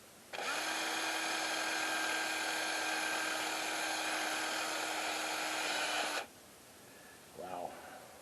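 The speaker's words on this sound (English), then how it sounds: "This unibit is so worn out, I won't even hardly drill through this stuff." A loud, steady high-pitched whine from a worn step drill bit drilling metal on a 1981 Ford Courier runs for about six seconds, then cuts off, followed by a brief voice exclamation.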